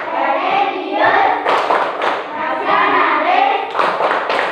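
A school class chants together in unison, with bursts of rhythmic group hand clapping punctuating the chant, loud and close in a classroom.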